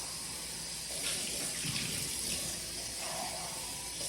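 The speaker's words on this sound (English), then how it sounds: "I'm gonna rinse the can and put it in my recycling bin" Tap water runs steadily into an empty bean can being rinsed at a kitchen sink, a continuous bright splashing rush with slight swells in the middle, close and loud with no talk.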